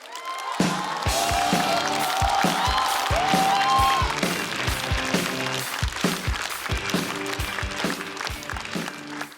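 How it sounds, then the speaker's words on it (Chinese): Studio audience at a stand-up comedy show applauds and cheers to welcome comedian Xu Zhidao onstage, a steady wash of clapping with whoops and a voice rising briefly over it. "掌声有请徐指导"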